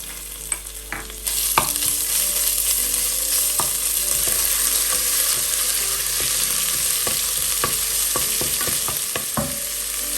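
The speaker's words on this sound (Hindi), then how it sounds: "ये हल्का सा सौते हो गए लहसुन अदरक का पेस्ट।" A constant loud sizzle of garlic-ginger paste frying in hot oil, with scattered pops and the occasional scrape of stirring, close up with no talking.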